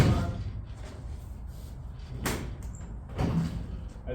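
A door on a 1969 Plymouth Road Runner swings shut with two sharp, solid thuds about a second apart, heard close up over a steady background hum.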